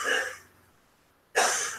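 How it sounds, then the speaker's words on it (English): Two harsh coughing bursts from people nearby, loud and close, separated by a short quiet gap and heard without any talk. "They're fucking coughing their lungs out."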